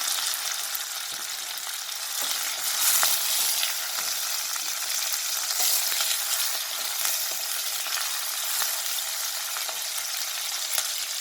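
Sliced onion and two bay leaves fry in a pan for a ridge gourd masala curry, a loud, dense, unbroken sizzle that holds steady throughout with no voices.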